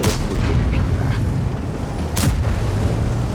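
A heavy booming tank cannon shot from a T110E5 in World of Tanks, with a deep rumbling boom and a second blast following over continuous low battle noise.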